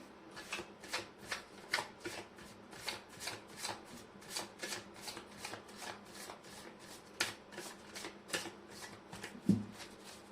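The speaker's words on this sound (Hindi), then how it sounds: "मैं कर लेती हूँ कार्ड की शफलिंग।" Tarot cards shuffled by hand, a rapid run of crisp riffling bursts repeating steadily at close range, with a soft knock near the end.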